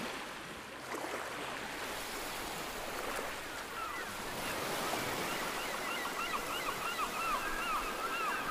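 Steady surf washes along the seaside by a hilltop temple in Hua Hin, Thailand, a continuous broad rush of waves with light wind and faint chirps appearing in the later seconds.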